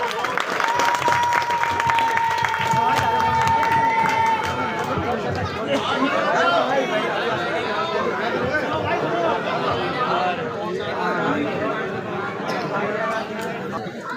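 A political rally crowd applauds and cheers in a loud, sustained wave of clapping mixed with shouting voices and chatter, filling the whole stretch without a break.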